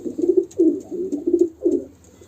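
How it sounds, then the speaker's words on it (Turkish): Pigeons coo close by in a series of five soft, throaty phrases with short gaps between them, alone without talk. "Şöyle açayım diğer kuşlarımız da dışarı çıksın"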